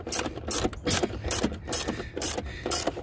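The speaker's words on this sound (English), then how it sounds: "Get your little ratchet, set it in there, flip your lever," A small hand ratchet tightens the battery hold-down on a 1999-2004 Ford F250/F350 7.3L truck, giving rapid rhythmic clicking bursts in roughly half-second strokes, close and clear.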